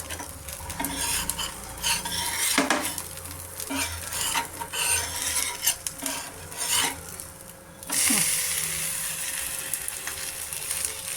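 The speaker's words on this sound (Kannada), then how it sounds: "ಈಗ ಬೆಂದಿದೆ, ತಿರುಗ್ಸೋಣ." Rava dosa cooks on a hot pan, a spatula scraping and clinking against it as it is flipped, with soft frying sizzle throughout and a brighter hiss near the end.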